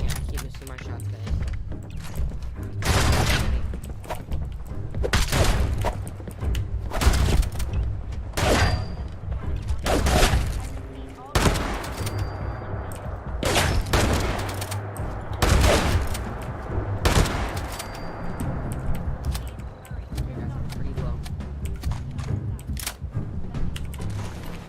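Gunfire in the Fallout 76 video game, repeated loud sharp shots in uneven bursts and single cracks across the clip, mixed with a player talking throughout.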